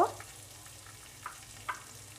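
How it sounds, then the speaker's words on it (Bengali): Chopped onions frying in a pan make a faint, even sizzle with a couple of light utensil taps, quiet and brief with no talking. "পেঁয়াজটা একটু হালকা বাদামি করে ভেজে নিব"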